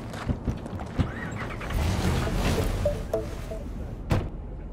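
A car in Cyberpunk 2077 driving, with a steady mid-level engine and road rumble, a door-like thump near the start and a sharp clunk near the end.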